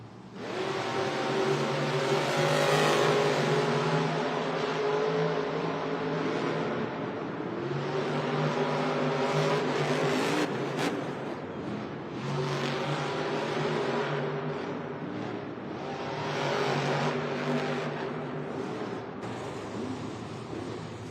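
Monster Jam trucks race at a stadium event in Syracuse, New York, their big engines droning and revving loudly in long swelling waves, heard from a distance amid arena echo and crowd noise.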